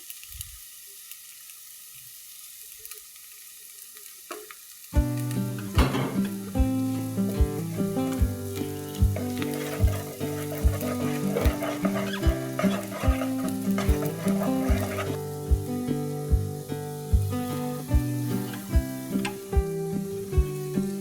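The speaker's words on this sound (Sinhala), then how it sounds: "ටිකක් බැදුනට පස්සේ අපි බිත්තර එකතු කරගන්නවා. බිත්තර දෙක හොඳට බැදෙන්න දෙන්න ඕන." Two eggs fry in an oil-filled pan for egg noodles in Sri Lankan home cooking. Near-silence gives way to a steady, close sizzle with repeated stirring and scraping, layered with a tonal, music-like background.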